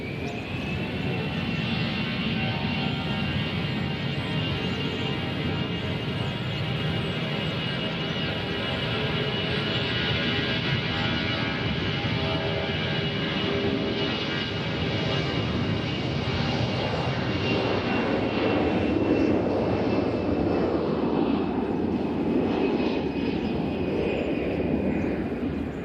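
An American Airlines plane in from DFW at Nashville International Airport, its engines roaring loud and steady for the whole stretch, with a slowly shifting tone as it passes. No one speaks.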